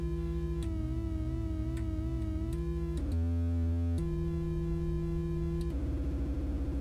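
Lyra 8 analog synthesizer playing sustained droning tones that shift pitch in steps, with wobbling modulated layers, sharp clicks and a deep low buzz, loud and without any voice.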